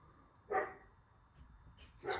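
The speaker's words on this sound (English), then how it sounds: "apologies for that dog barking" A single dog barks twice, somewhere indoors and off to one side, a short sharp bark early and another at the end, faint against a quiet room.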